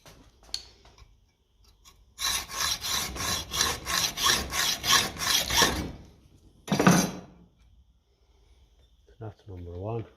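Slots being cut by hand into small parts from a 1955 Ferguson TED 20 TVO tractor during electrical work: a close burst of about nine quick, even rasping strokes, one more stroke after a pause, then brief talk at the end.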